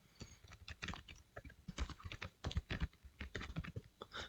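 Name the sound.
typing an email address on a computer keyboard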